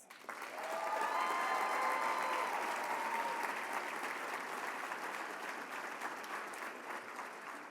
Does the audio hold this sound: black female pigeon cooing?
no